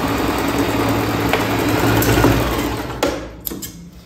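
A sewing machine stitches a pattupavada skirt with a steady, close mechanical whir that runs for most of the span, then slows and stops with a few clicks near the end.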